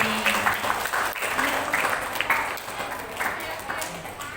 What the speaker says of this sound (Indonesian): Aplaus buat Bapak Ibu yang ada di sini.